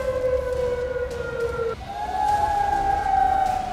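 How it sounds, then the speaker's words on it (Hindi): Tsunami warning sirens sound across coastal Alaska, steady wailing tones holding for a moment, then shifting pitch partway through and carrying on loud and sustained, with no voices. "समंदर किनारे सभी इलाकों में सायरन बजाकर सुनामी की चेतावनी दी गई"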